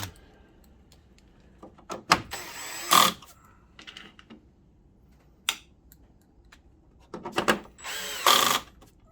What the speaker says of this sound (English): I'm not concerned about using the drill